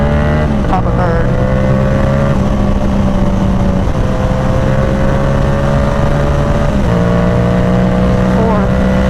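A Yamaha R7 motorcycle engine revs hard and close, climbing in pitch through a gear, dropping at the shift, and climbing again with a steady, loud drone throughout.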